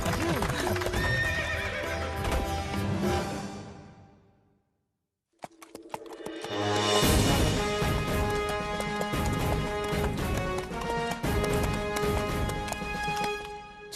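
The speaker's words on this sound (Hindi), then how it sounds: "नकुल का घोड़ा तो देखते ही देखते हवा से बात करने लगा" A horse gallops in an animated Hindi cartoon about the Pandavas, with rapid clip-clop hooves and a whinny under loud music and voices. The sound cuts out briefly midway, then the dense mix resumes.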